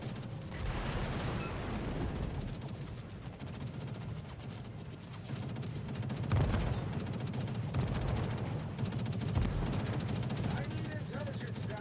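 Rapid gunfire and explosions in a tank video game, a continuous rattle of shots with heavy booms at a moderate level, with people talking over it.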